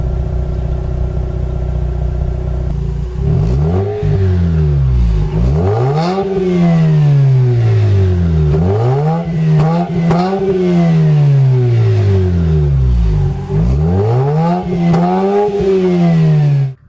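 A Mazda RX-8's rotary engine revs repeatedly, each loud close blip rising to a high smooth wail and dropping back, about six rhythmic pulls over a steady idle with no talk.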